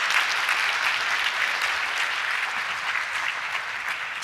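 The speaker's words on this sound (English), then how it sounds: "Let's give him a big round of applause." A large audience at a university State of the University address applauds the Faculty Senate Chair, steady dense clapping sustained at even loudness throughout, with no voices over it.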